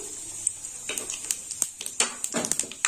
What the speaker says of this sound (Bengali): ফোড়নটা একটু ভাজা হোক।